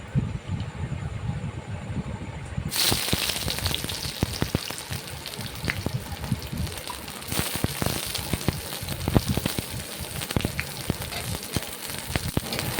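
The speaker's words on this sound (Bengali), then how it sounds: "তারপরে পেঁয়াজটাকে আমি হালকা ভেজে নিয়েছি" Chopped onion frying in hot oil with bay leaf, a steady close crackle and sizzle that jumps louder a few seconds in and keeps spitting alone to the end.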